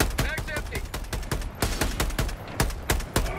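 Rapid automatic gunfire from Helldivers 2 as magazines are emptied into an enemy, a dense close string of sharp loud shots running the whole way with brief pauses.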